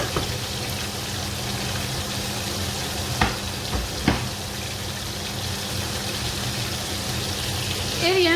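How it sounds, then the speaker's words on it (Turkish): Cabbage with cream and milk is stirred in a pan, a continuous soft sizzle and wet churning with a couple of sharper spoon knocks against the pan midway, close and steady throughout. "Lahanamızı da iyice karıştıralım."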